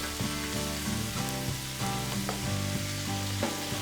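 Chicken feet and garlic sizzle in a hot pan for Filipino adobo, stirred with a rhythmic series of scraping strokes over a steady frying hiss.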